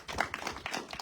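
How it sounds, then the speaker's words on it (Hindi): An audience claps at a World Heritage Day celebration at Leh Palace, giving a brief burst of several uneven, close hand claps. "ताली बजाओ भाई"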